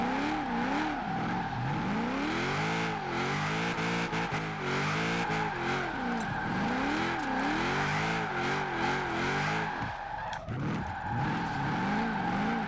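A Mitsubishi Lancer Evolution IX drift build in Forza Horizon 4 revs hard throughout, its engine note rising and falling in repeated sweeps with tyre skidding, loud and continuous, with no talk.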